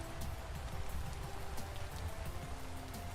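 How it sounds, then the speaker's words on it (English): Rain in the video game Vintage Story: a close, dense patter of raindrops on surfaces with scattered sharper drips, steady throughout and heard alone with no talk. "Walking in the rain."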